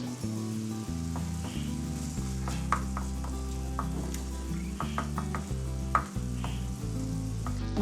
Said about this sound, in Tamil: சேர்த்து அப்படியே கிண்டி விட்டுடலாம்.